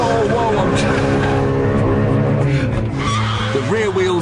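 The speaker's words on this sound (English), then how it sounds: "the rear wheels light up like Catherine wheels because there's nothing controlling that mighty engine" 2008 BMW M3 launching with traction control off, rear tires squealing loudly in a sustained screech over the revving engine, while someone talks over it.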